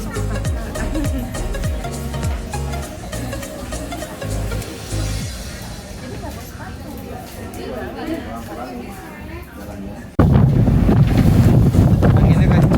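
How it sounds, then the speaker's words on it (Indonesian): Strong wind buffets the microphone in loud, continuous rumbling gusts during a family road trip, with people chattering underneath, and the roar grows abruptly heavier near the end. "Anginnya kenceng."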